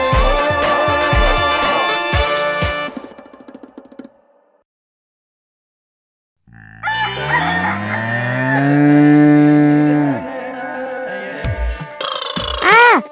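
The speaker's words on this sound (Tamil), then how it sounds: "மாடு எப்படிடா இங்க வந்துச்சு?" A cow moos loudly and close by in long drawn-out calls, with a pause of silence between bursts and other farm sounds mixed in.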